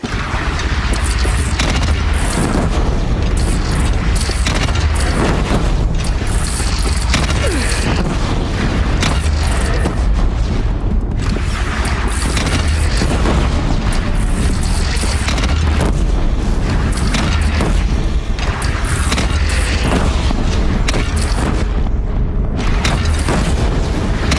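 Cannon fire booms repeatedly in Horizon Zero Dawn during a battle with a bandit clan, loud heavy blasts and rumbling impacts layered over continuous dense battle noise and mechanisms.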